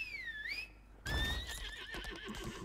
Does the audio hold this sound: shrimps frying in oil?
no